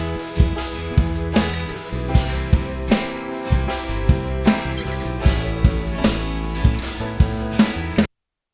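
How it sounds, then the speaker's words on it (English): Original snare drum hits with room ambience land in a steady, evenly spaced beat inside a full, dense drum mix. They are loud and continuous, then cut off abruptly. "a snare drum that I want to replace that sounds like this"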